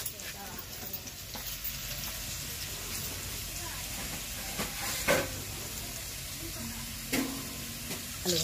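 Potatoes fry in a pan with a soft, continuous sizzle and hiss, fairly quiet, broken by a few brief clatters and a voice talking.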